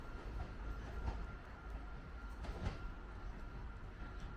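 A train pulls away from Clifton Hill railway station, a steady low rumble of wheels and rolling stock with faint clatter, fairly constant and moderately distant, with no talking.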